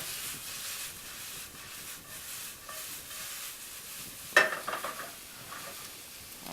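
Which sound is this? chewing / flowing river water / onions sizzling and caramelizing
onions sizzling and caramelizing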